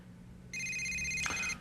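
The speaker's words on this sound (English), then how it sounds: "another important conversation interrupted by a cell phone" A cell phone rings loudly with a steady electronic tone that starts abruptly and holds for about a second before cutting off, set against a quiet room.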